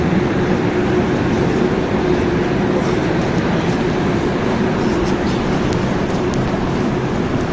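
A London Underground Piccadilly line train rumbles steadily and loudly throughout, a continuous low roar with a faint tonal hum, heard from onboard with no talk.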